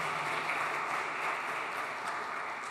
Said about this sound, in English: please a round of applause for Kim, Serge, and our speakers